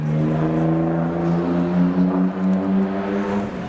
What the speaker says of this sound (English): Sounds like the R32's next. Yep, that's an RB.